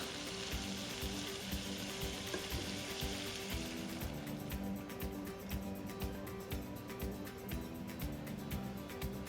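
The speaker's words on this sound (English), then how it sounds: "now I'm adding my milk" Milk poured into a hot pan for shrimp Alfredo sauce, a soft sizzle and bubbling with faint liquid splashes that grow busier and crackly partway through, quiet and with no talking.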